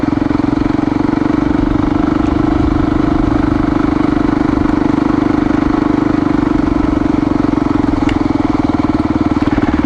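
An XR motorcycle ridden along a road, its engine a steady loud drone with constant low throbbing and wind rush across the whole stretch, close and unbroken, no voices.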